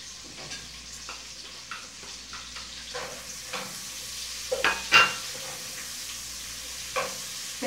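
Sausage fries in a pan with garlic and onion, giving a soft, steady sizzle broken by the scrape and clink of a utensil stirring against the pan, with a sharper clatter partway through.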